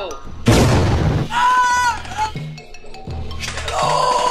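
A loud boom from an explosion in a trailer for a comedy war film about plastic army men, a sharp blast followed by rumbling decay with music and other effects layered around it.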